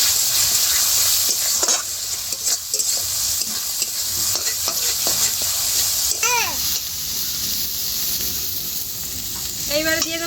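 Spices, fresh coriander and green chilli paste are stirred into a Sundarbans river fish curry in a frying pan, giving a steady close sizzle with scraping spoon strokes; faint children's voices sound in the background.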